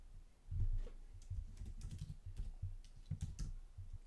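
Fingers tap out code on a computer keyboard in quick, uneven bursts of soft clicks, close and fairly quiet, with no talking.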